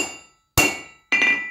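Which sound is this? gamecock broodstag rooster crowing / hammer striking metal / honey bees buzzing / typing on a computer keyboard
hammer striking metal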